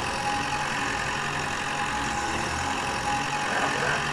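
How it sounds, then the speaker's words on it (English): A tractor engine in a video game runs continuously, a steady, fairly loud mechanical drone with low rumbling and a slight rise near the end, heard alone without talking. "And I like how the tractor kind of pops."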